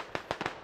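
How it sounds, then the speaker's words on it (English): Grenade explosions in the tactical shooter Squad, infantry fighting in hilly terrain: three sharp, fairly close bursts in quick succession, the last two nearly back to back, with no talk. "Grenades being thrown."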